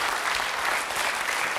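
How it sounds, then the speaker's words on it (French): Studio audience applause on a French TV game show, a dense, steady wash of many hands clapping close and loud throughout, with no voices over it. "On applaudit Janine et Ophélie."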